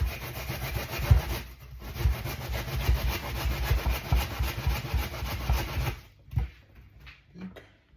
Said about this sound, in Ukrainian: Цибульку потерли, додаємо солі, перчику.